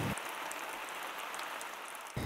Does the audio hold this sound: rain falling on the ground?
yes